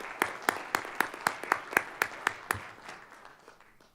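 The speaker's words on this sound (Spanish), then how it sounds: "Les pedimos un aplauso, pero particularmente para Henry," Applause at a press freedom committee session of an inter-American press association general assembly, heard as a sparse, rhythmic series of distinct nearby claps about every quarter second, tapering off into faint scattered clapping.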